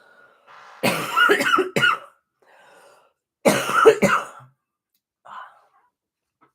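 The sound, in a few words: coughing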